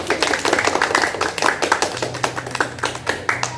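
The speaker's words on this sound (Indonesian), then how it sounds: "Hore, tepuk tangan" A small group of children claps their hands in a quick, fairly sharp rhythm during an icebreaker game, close and uneven, with a low hum underneath.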